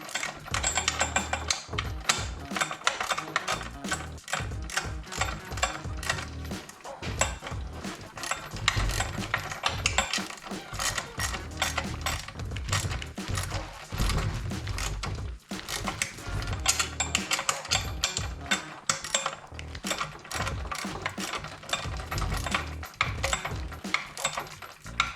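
A ratchet tightens bolts during a Yamaha YFZ450R ATV build, a long run of rapid, close clicking strokes with brief pauses between bursts.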